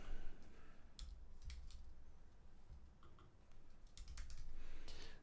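Keys clatter on a computer keyboard in quick bursts separated by short pauses, sharp and fairly close but low in level, with no talking.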